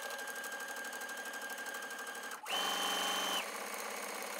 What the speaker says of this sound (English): we're gonna sew all the way around here with a straight stitch